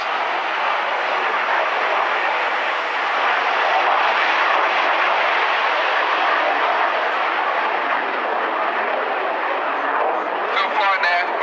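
An RAF Hawk jet flies low overhead at an air show in Lowestoft, its engine roar loud and sustained throughout while an announcer talks over it.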